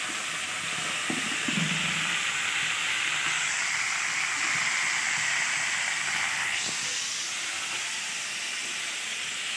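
Fish frying in a pan in a home kitchen, a steady loud hiss and sizzle running throughout with faint clatter underneath.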